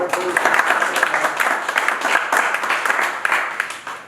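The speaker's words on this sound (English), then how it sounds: "Big round of applause for Ryan." A round of applause for Ryan, the winner at a winter fishing championship round at Tunnel Barn Farm, with irregular clapping from a small group, moderately close and uneven, swelling and dipping without a break.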